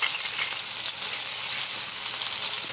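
Smashed burger patties sizzle on an oiled griddle, a steady, loud, bright hiss of frying fat that holds evenly throughout, with no talking.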